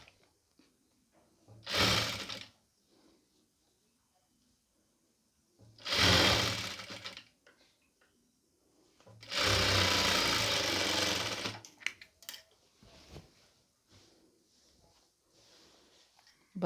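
A sewing machine stitches a pleated nightie in three loud, close bursts of whirring, the last one longest, with quiet pauses between runs.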